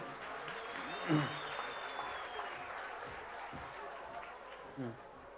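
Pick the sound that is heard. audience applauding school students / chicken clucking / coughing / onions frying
audience applauding school students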